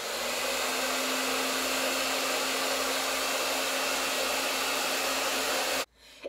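A professional hair dryer blows with a steady, loud broadband whoosh and a faint tonal whine, running continuously for about six seconds before abruptly switching off.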